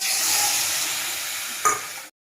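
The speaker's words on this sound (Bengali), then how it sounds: "এবার বেগুনগুলো ভালো করে নেড়ে নেব।" Eggplant fries with a ground spice paste in a pan, stirred through a steady close sizzle that fades with a short scrape before going quiet.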